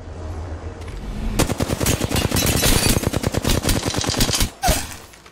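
Loud rapid automatic gunfire from a solo-versus-squads shooter game, a quiet lead-in and then a sustained stream of fast shots, ending in a short break and a final heavier blast.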